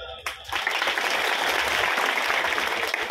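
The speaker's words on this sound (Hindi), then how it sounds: "एक बार राकेश जी के लिए ताली बजाएं" Audience at a devotional gathering breaking into applause for Rakesh ji, a burst of dense clapping that swells after a brief spoken moment and holds steady.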